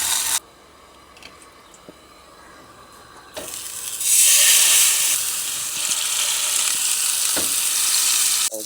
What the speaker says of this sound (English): I'll get a nice sear on the steak